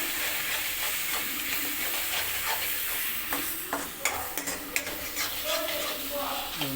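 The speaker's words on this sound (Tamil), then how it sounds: "நல்லா கிண்டி விடணும்." Tomatoes and turmeric are stirred in a hot pan for Dindigul chicken salna: continuous scraping and clicking of a spoon over a steady sizzle, close and moderately quiet.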